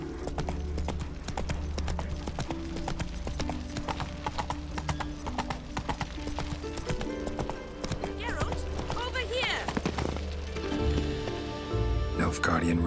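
Roach the horse's hooves clip-clopping at a steady walking rhythm in The Witcher 3, close and continuous beneath background music and game speech.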